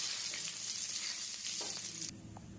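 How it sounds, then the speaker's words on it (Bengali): Cumin seeds, a dried red chilli and a bay leaf sizzle steadily in hot oil for a chicken curry, a dense close crackle with faint stirring clicks, easing slightly near the end. "আমি একটু জিরে দিয়ে দিলাম, আর একটা শুকনো লঙ্কা, একটা তেজপাতা দিয়ে দিলাম"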